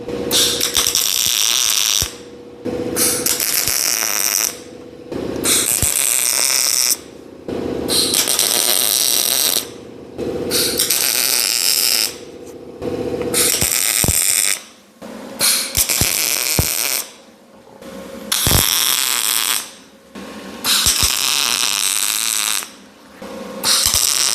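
Tack welds sound in repeated bursts of bright crackling hiss on a metal chair frame, roughly a dozen short blasts each a second or two long, separated by brief quiet gaps, close and loud.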